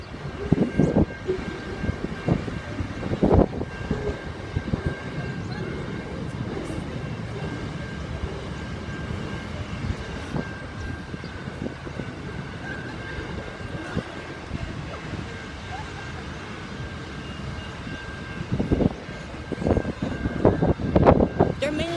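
Freight train passing at George Road in Corio, Victoria: a continuous low rumble and rattle of rolling wagons with sharper clanks and surges, heard from nearby, with some voices in the background.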